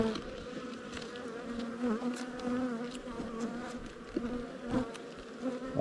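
Honeybees at an open hive with brood frames exposed, a steady, close swarm of buzzing with individual bees darting past the microphone, moderately quiet overall.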